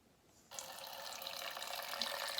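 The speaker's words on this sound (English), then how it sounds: "Now let's see what happens if I turn the tap again." A water tap in a home atmospheric-pressure demonstration is turned on after a brief quiet moment, and the water then pours in a steady, close hiss that grows slightly louder, with no talking.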